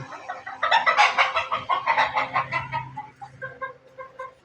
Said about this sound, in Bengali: মুরগিও আছে কিছু